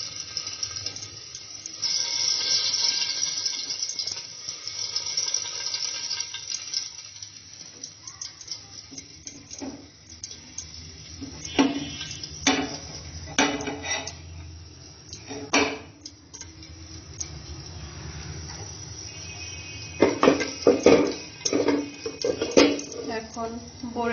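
Small mustard seeds dropped into hot oil in a pan for a Bengali sour jujube (boroi) dish, giving a scatter of sharp crackles and metallic clinks near and fairly loud, with a low background hum throughout.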